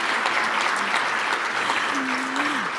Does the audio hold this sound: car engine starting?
no